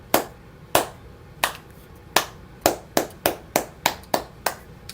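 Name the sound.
round of applause from studio audience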